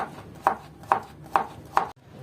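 Four evenly spaced knife strokes slice through zucchini onto a cutting board, crisp close-up thuds at a steady rhythm with a quiet kitchen in between.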